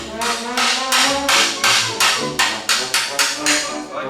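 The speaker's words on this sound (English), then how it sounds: "So I'm going to take my hammer," About a dozen sharp hammer blows on a 1961 GMC truck's metal frame, each ringing briefly, struck close by in a steady, slightly quickening rhythm.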